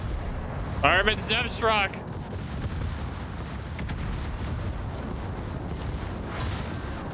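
Naval artillery gunfire in World of Warships, a rapid cluster of heavy booming shots about a second in, then a rumbling wash of battle noise while a player shouts.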